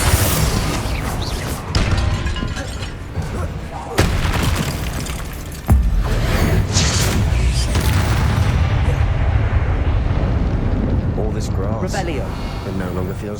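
Confringo blasting spell going off inside catacombs in the Hogwarts Legacy video game, heavy booming blasts at about 2, 4 and 6 seconds followed by a sustained rumbling roar with a game score and effects layered over it.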